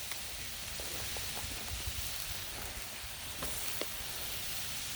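Baby bella mushrooms sizzle in ghee on a hot griddle, giving a steady, dense crackling hiss with scattered small pops throughout.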